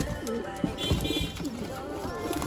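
Asmani pigeons cooing in a loft among other birds, soft repeated low coos rising and falling close by, with faint chirps and background murmur.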